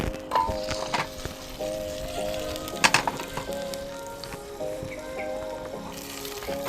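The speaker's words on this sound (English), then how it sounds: "And very important ingredient is the kaffir lime leaf. We want to fry this ingredient quickly." Kaffir lime leaves frying quickly in a pot, giving a steady close crackle and sizzle with scattered pops and a few sharper bursts.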